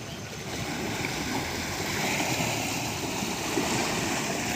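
Waves on the Ganges river churned up by passing big ships, a continuous rushing, lapping wash close by with a faint breezy hiss, steady throughout and no talk.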